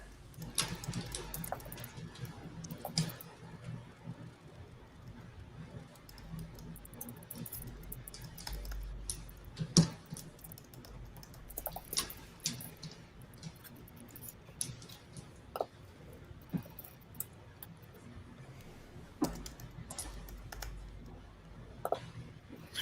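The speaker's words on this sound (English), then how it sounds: "A lot of typing going on over there." Keys tap on a computer keyboard in irregular bursts and single clicks, close and fairly quiet, continuing steadily with brief pauses and an occasional louder knock.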